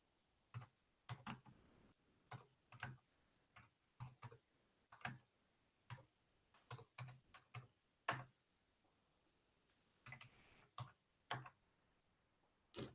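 Keys click on a computer keyboard as a Linux install command is typed, a quiet, close run of irregular taps arriving in small clusters with short pauses between them.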